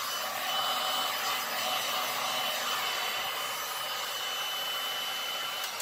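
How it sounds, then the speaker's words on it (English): A heat gun used for resin art on chipboard blows a steady, loud broadband rush of hot air that holds evenly through the whole stretch, with no talking. "I have a heat gun that has attachments"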